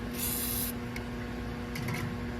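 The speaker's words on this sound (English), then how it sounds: "Let's spray a little bit on it." A short hiss of aerosol spray onto a tight bolt on a 6.7 engine, close and brief, followed by faint clicks over a steady low hum.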